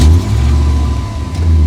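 A car engine warming up, running close and loud at a steady idle, a deep continuous rumble with slight swells in level.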